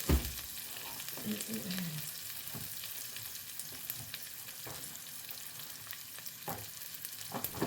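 Garlic and sliced shallots stir-fry in a hot pan with scattered sharp clinks of a spatula against the metal over a steady, moderate sizzle.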